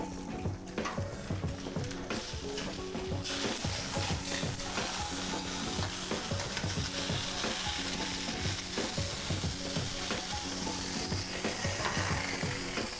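Steady crackling sizzle with faint clinking, continuous and fairly close, of a scoop of water hissing on hot stones in a portable sauna.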